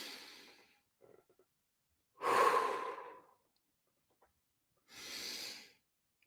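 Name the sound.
deep breaths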